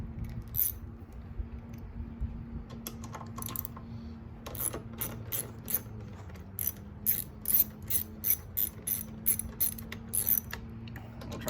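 A ratchet wrench clicks rapidly in short bursts while backing out two 10mm bolts on a Honda GCV160 small engine carburetor, close and clear over a low steady background hum.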